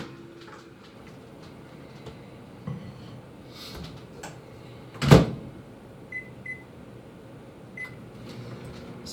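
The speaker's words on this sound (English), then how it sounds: "So put this into the microwave." A microwave oven runs with a steady low hum while melting brownie batter ingredients. A sharp door thump lands near the middle, with a few soft beeps and small clicks scattered around it.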